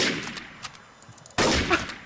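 Gunfire in a video game session with sniper play: several sharp reports ring out, the last one loud and sudden, with no talk.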